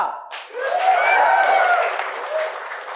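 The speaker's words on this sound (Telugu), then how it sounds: "ఇవాళ అతనికి అప్లాజ్ ఇచ్చే రోజు కదా" An audience at a fans meet applauds actor Sumanth. Applause swells quickly and holds steady, with cheering voices rising above the clapping.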